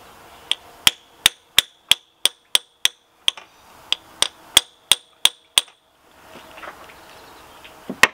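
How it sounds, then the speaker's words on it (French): Sharp metallic hammer blows on a chisel working loose a plug on a Peugeot 308 during a coolant leak repair, about fifteen evenly spaced strikes in two close runs, then quiet scraping and one final hit. "je vais prendre le burin, je vais taper en bas"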